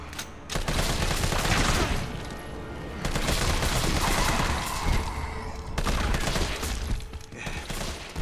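Sustained automatic gunfire from the player's rifle in Resident Evil 3 Remake, a loud, dense stream of rapid shots that runs almost without break, with brief dips between bursts.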